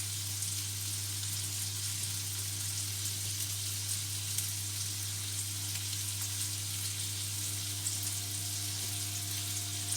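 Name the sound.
IKEA-recipe meatballs frying and being shaken in a pan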